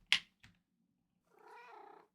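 A cat gives a short, quiet meow near a bowl of salmon, with a faint tick and then a drawn-out, wavering vocal call after a pause; soft and close with no talking.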